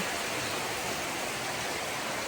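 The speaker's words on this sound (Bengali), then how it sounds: "মুষলধারে শুরু হয়ে গেছে আমাদের রাজশাহীতে বৃষ্টি" Heavy morning rain pours down in Rajshahi as a dense, unbroken hiss that stays loud and steady throughout.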